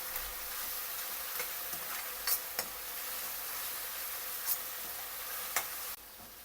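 Ginger garlic paste with turmeric sizzles steadily in a hot pan for chicken kurma, a continuous close frying hiss broken by a few sharp crackles and the clink of stirring, with no talk.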